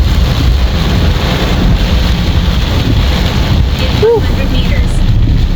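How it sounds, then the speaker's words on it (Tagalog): Strong wind roars against the microphone with a constant heavy wash of rain, loud and unbroken throughout. "Malakas na ulan, malakas pa hangin."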